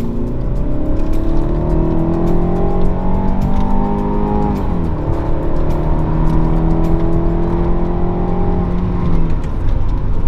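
A BMW 430i F32 in sport mode revs hard as it accelerates, pitch climbing, dropping briefly at a gear change, then rising again, loud and close throughout.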